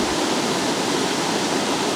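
Viripara Waterfalls in Munnar, a constant loud roar of falling water, broad and even, heard close by with no voices.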